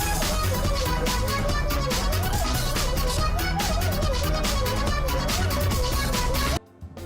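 An internet meme song plays loud and steady, with a bright, bouncy looping synth melody over a driving beat before stopping suddenly near the end.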